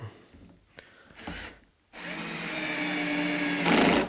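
A Bosch drill drives a screw into a wooden bench. There are a few short clicks and a brief burst of whirring, a pause, then one longer, steady, close drive that rises in pitch toward the end, with no talking.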